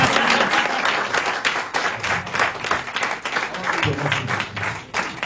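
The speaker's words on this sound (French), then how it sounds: "Moi, j'applaudis pour ça, quand même." A crowd applauds, clapping densely and steadily, near and loud, with bursts of cheering and voices mixed in.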